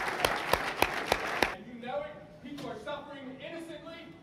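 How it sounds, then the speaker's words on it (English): Short burst of audience applause at a CES 2013 keynote for the FCC chairman, five sharp clap peaks over about 1.5 seconds in a large hall, then fading as a voice talks over the room. "could the audience applaud the chairman for this great announcement, please?"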